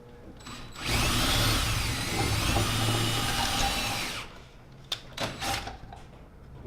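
A power drill bores into steel while installing a wireless DC window shade, a loud, steady high-pitched whir lasting about three seconds, followed by a few sharp clicks and knocks.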